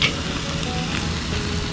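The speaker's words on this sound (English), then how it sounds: "We're just trying to get that fat seared." Tri tip fat sears over an oak-fed open flame on a Weber kettle grill charcoal fire, giving a steady, close sizzle and crackle with no voices over it.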